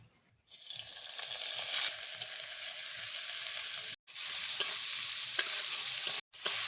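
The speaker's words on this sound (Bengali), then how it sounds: "এখন রান্নার জন্য কড়াইয়ে আমি গ্রেট করা পেঁয়াজ দিয়ে দিচ্ছি" Grated onion sizzles steadily in hot oil in a kadai wok, with stirring scrapes running through the frying. The sound is loud and continuous, broken by two brief pauses, while cooking fish roe kofta curry.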